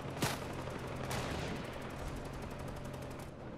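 Gunfire in the Fortnite video game, two sharp loud shots followed by a rapid continuous automatic burst of fire with a rattling rhythm, close and dominant.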